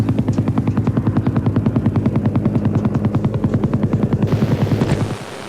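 A helicopter's rotor thumps in a fast, steady rhythm, loud and close, with an engine drone underneath, fading slightly at the end.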